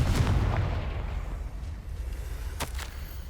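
A Confringo blasting-curse explosion in the Hogwarts Legacy video game, a loud deep boom at the start that rumbles and fades, followed by a couple of sharper pops, with no voices.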